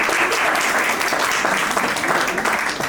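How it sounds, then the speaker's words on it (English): A courtroom audience at a moot court competition final applauds steadily, a dense wash of hand claps lasting the whole moment without pause. "So, clapping."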